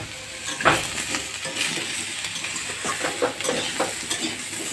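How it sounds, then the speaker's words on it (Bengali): Potato, pumpkin and green chilli fry together in a pan, a constant sizzle broken by a run of sharp scraping stirs from a spatula, close and clear with no talking. "আলু, কুমড়ো, কাঁচা লঙ্কা একসাথে একটু ভেজে নেব।"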